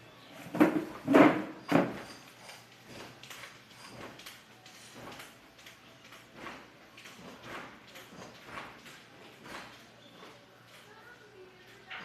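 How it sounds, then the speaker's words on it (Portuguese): A door banging in the wind indoors: a few loud, close knocks cluster near the start, followed by softer scattered thuds over a steady room hush. "a porta lá tá batendo com o vento"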